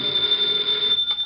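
Telephone ringing in an office, a continuous bright electronic ring holding steady and loud for about a second with nothing else over it.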